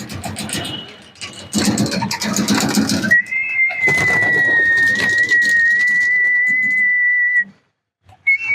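Racing homing pigeons released from a rooftop, with bursts of wing flapping and cooing near the start, followed by a long, loud steady whistle that stops briefly before resuming.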